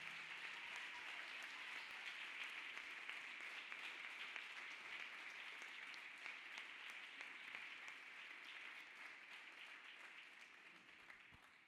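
A church congregation claps hands in praise, a full and steady wash of applause from many people that continues for the whole stretch and tapers off gently toward the end.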